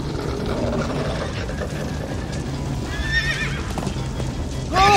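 In the Minecraft Story Mode video game, horses whinny and neigh several times over a run of clip-clopping hooves, the calls rising near the end.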